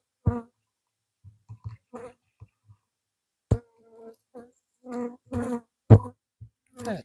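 Honey bees at a queen-rearing starter hive buzz close by in short, separate bursts, some brief and some longer, with quiet gaps in between.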